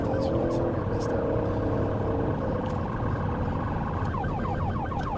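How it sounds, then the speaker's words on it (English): Police sirens wail and yelp over heavy traffic noise, with a faint voice murmuring in the background. "Just a lot of siren sounds."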